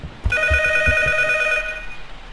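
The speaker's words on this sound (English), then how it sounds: "Oh, phone's ringing" A telephone rings inside a horror video game, sounding a steady electronic trill with several bright repeating pulses that fill the clip, close and clear, then cut off near the end over a faint low background thump.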